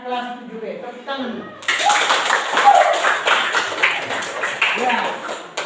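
Class of 7B students clapping hands together in a classroom, a dense burst of claps starting after brief talk and continuing loudly to the end, with voices underneath.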